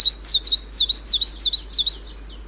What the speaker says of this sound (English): the two-barred song is built up more of shorter blocks, shorter units that are repeated many times